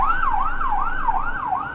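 An ambulance siren wails nearby in a steady rising-and-falling cycle, about four sweeps, loud and continuous over low road rumble.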